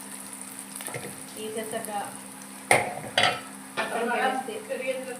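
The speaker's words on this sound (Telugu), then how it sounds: "మన ఎగ్స్ ఫ్రై అయిపోయి ఎగ్స్ తీసేస్తాం" Eggs frying in a pan for egg dum biryani, a soft steady sizzle with a couple of sharp utensil clinks against the pan, and a voice briefly talking.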